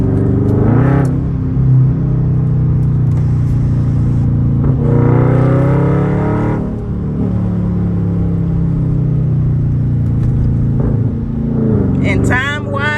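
An SRT Mopar car's exhaust rumbles while it drives with the windows slightly down, steady and droning with a few rising pulls, while someone talks over it.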